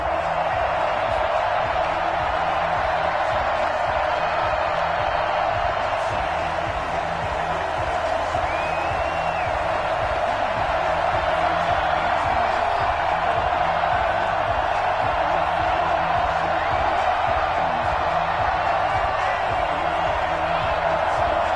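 Simulated stadium crowd in a Madden football game before a Buffalo Bills versus New York Jets matchup, a steady broadband roar of cheering that holds throughout, with occasional whoops over a low rumble.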